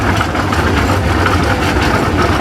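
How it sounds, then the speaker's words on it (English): Steady, loud engine rumble from a Massey Harris 44 tractor fitted with a Ford V8, running continuously at close range at an outdoor steam and gas engine show, with no talk over it. "Massey Harris 44 with a V8 engine."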